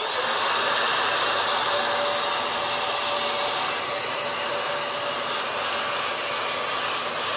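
Loud, continuous whooshing whir of an ALDI hot air brush blowing, a steady motor and airflow drone with no breaks and no talking.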